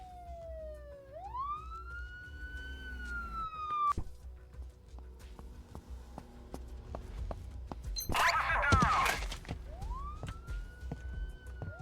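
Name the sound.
police car siren in Advanced Crime Simulator video game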